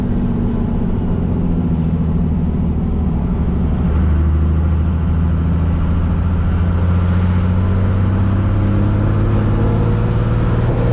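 A turbocharged six-cylinder MWM diesel engine in a Chevrolet Silverado pickup revs up to about 4,000 rpm, its low droning pitch climbing steadily and growing louder, heard from close by with no talking.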